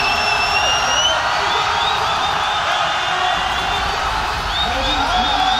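A large esports arena crowd at a Dota 2 Major final roars steadily throughout, a dense wash of cheering and shouting with whistles and whoops rising above it.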